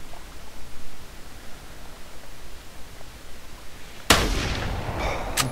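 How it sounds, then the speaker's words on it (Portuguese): Quiet hiss, then a single sharp rifle shot at an ibex in the hunting video game theHunter, with a brief echoing tail near the end. "Disparo efetuado."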